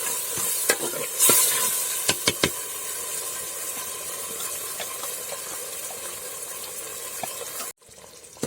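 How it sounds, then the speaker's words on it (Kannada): Ground masala frying in oil for an ivy gourd (tondekayi) palya, with steady sizzle and a few sharp spoon-stirring clicks near the start, no talking. "ಚೆನ್ನಾಗಿ ಎಣ್ಣೆಯಲ್ಲಿ ಫ್ರೈ ಆಯಿತು ಈ ಮಸಾಲ."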